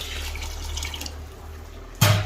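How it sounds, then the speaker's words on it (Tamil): Water splashes and gurgles steadily as it pours into a pot for cooking biryani rice, ending with a sudden louder burst near the end. "இப்போ என்ன 2 தண்ணி ஊற்றிக்கலாம்."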